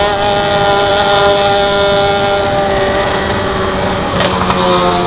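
Yamaha XJ6 motorcycle idling and revving through a new 4-into-1 exhaust, a loud, close, steady throaty drone with a brief blip of throttle near the end.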